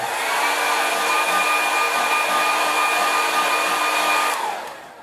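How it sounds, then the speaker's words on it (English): A hair dryer blows steadily and loudly over a freshly painted watercolour, a constant close whoosh with a faint motor whine that winds down near the end. "And then I'm just going to give that a quick dry."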